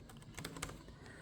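A short burst of a few soft key taps on an HP 15-fd0xxx laptop keyboard with high keycaps, close-miked and quiet, with no voices.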